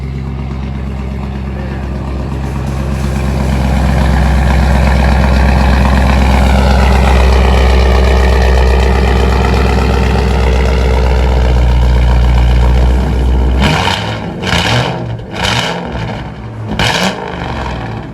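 A Ford F-250 Super Duty pickup with a 5.4L Triton V8, a large catalytic converter and a big muffler idles with a loud, deep exhaust rumble for most of the stretch, then blips out several sharp revs near the end.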